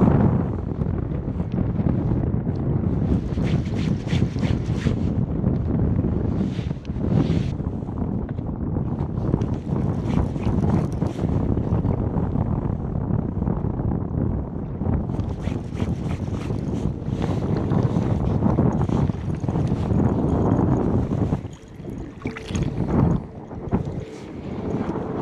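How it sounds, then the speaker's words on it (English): Wind gusts steadily against the microphone on a fishing boat out on open water. The roar is loud and buffeting, with bursts of hiss and rattle over the constant blowing. "This wind's not helping."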